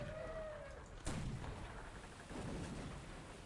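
Cannon fire in the pirate video game Sid Meier's Pirates!: one sharp, loud boom about a second in, trailing off into a rumble. A second, softer blast follows, and steady game ambience runs underneath throughout.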